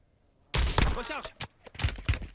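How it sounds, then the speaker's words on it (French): Gunfire in the battle royale game Warzone, a burst of several loud close shots with sharp cracks and rattling tails, starting abruptly after a quiet moment and repeating in uneven clusters. "J'ai reçu des tirs."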